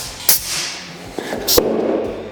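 A tire bead snaps into its seat on the rim during inflation. Two sharp, close pops stand out over a low background hiss.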